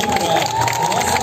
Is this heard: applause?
yes